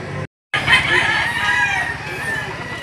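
Boston Roundhead rooster crows loudly and close at a busy chicken market in Lipa City, Batangas, after a brief silent gap, with clucking fowl and crowd noise around it and a voice talking nearby.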